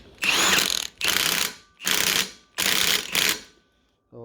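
An impact gun rattles off nuts on an Alfa Romeo 75 2.0 Twin Spark propshaft, fired close and loud in four sharp hammering bursts with short pauses between, ending in quiet.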